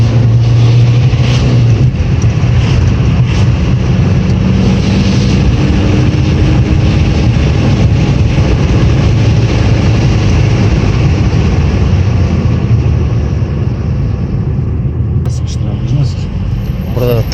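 A car on a test drive with an injector fault that lit the engine warning light above 3000 rpm, its engine droning loudly and steadily under road noise throughout, with people talking over it.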